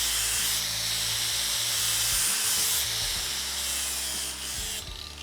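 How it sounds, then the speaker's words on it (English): A very new, aggressive 36-grit flap wheel grinds a welded metal corner, making a harsh, continuous hiss and rasp with the motor's hum shifting in pitch as pressure varies, tailing off near the end. "just that little bit of grinding took both those corners off"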